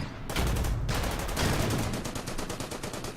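Units fire at a BA-10 armored car in the strategy game Order of Battle. A dense, continuous volley of overlapping gunshots rattles on for about three seconds, loud and close, with a rapid rhythm toward the end.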